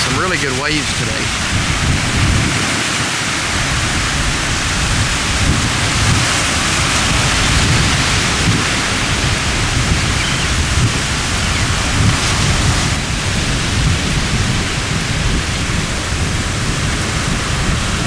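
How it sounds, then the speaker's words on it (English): Rough surf breaking on Siesta Key beach, a continuous broad roar of waves heard up close that keeps a constant level throughout. "Some really good waves today."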